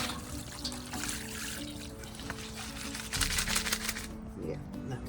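Water trickles and pours steadily while an aquarium plant is rinsed, a soft continuous splashing close by with faint background hum.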